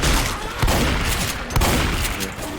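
Gunfire in Left 4 Dead 2: dense, continuous rapid shooting, loud and close, with a couple of heavier shots standing out over a thick barrage.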